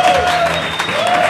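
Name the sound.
audience applause for the keyboard player at a live concert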